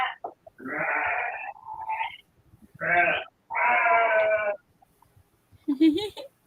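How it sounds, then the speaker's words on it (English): A goat at a fruit farm in Johor, Malaysia bleats several times in loud, wavering bursts close by, separated by brief pauses, with the last cry cut short and sharper. "He doesn't sound real. He's like, bah, I'm a goat."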